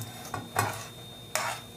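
A spoon stirs bacon, tomato, onion and chopped garlic in a pot of lentil soup, three short scraping strokes spread across a low simmering background.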